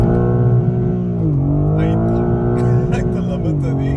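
BMW G82 M4 engine revving hard in first gear against the rev limiter, a loud, close, droning exhaust note that dips and climbs with stuttering cut-outs near the top of the revs.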